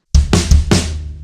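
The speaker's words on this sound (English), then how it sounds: "The fill up to speed sounds like this." A quick drum fill for a song played up to speed: three loud, close hits of kick with snare and floor tom together, cymbal ringing out alone afterward.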